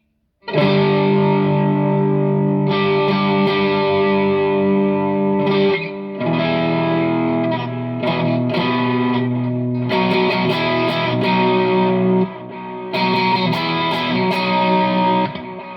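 Loud Harley Benton ST20 electric guitar with cheap stock pickups played through a Zoom G1X Four pedal with heavy distortion, chords ringing out with brief breaks between phrases, close and sustained.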